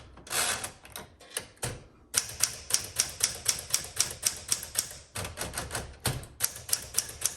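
Keys clack in quick rhythmic bursts on a 1961 Smith Corona Sterling manual typewriter, with brief pauses between runs of close, crisp strikes.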